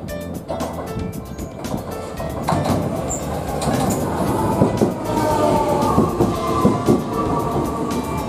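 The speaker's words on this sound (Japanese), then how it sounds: "高田方面から電車が来ました。" A JR train on the Manyo Mahoroba (Sakurai) Line pulls into Tenri Station, its steady rumble and clattering wheels building up close by over several seconds, with brief station and ambient noises mixed in.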